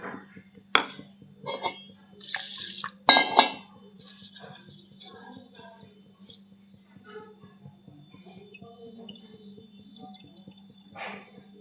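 Masoor lentils being washed in water in a kitchen, with a few splashes and clinks of a vessel early on, then faint dripping and trickling over a steady low hum.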